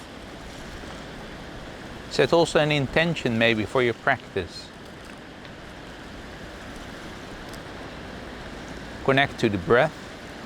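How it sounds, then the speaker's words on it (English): Ocean waves and wind on a shore where fishermen work, a steady broadband wash running the full length at moderate level, under a calm voice guiding a breathing practice at intervals. "the sounds of the fishermen, the wind, the waves"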